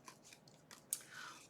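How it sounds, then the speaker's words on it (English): Scissors snip apart paper daisies for a handmade card, giving a few faint, crisp cuts with one sharper snap near the middle of a quiet moment. "So you can snip these daisies apart and use them all separately."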